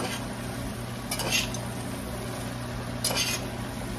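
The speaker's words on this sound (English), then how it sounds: "I'm stirring again, trying to bring up the bottom to the top so all of this will cook" Braised beef shanks and cabbage are stirred in a pot with a soft, faint scraping and squishing, and two brief clinks ring out against a low steady simmer.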